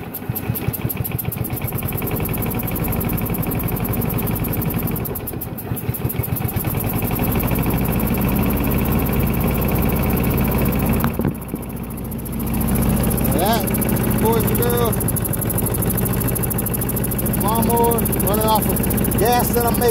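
A combustion engine runs on wood gas piped from a homemade gasifier, producing a loud, steady mechanical drone with rapid pulsing throughout, while people talk over it nearby.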